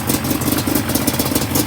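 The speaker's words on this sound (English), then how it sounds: "Let's see what it's idling at." A 2005 Yamaha Banshee Special Edition two-stroke twin, freshly rebuilt, idles steadily on both cylinders with a rapid, even pulsing beat, loud and close throughout.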